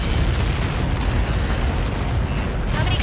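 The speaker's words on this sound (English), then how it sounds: "How many got caught in that explosion?" A massive explosion in the combat flight game Ace Combat 7 rumbles as a dense, continuous roar of deep booming and crackling debris, loud and sustained throughout.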